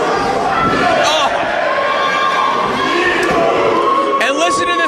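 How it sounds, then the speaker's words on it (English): A wrestling crowd roars and cheers continuously through an indie wrestling match, loud and dense throughout, with a commentator talking over the noise. "And listen to this crowd."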